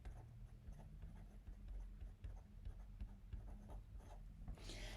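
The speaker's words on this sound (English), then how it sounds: "So I'll write this down." Pen or pencil scratching across paper during a watercolour painting class, a faint, continuous run of small scribbling strokes with no one speaking.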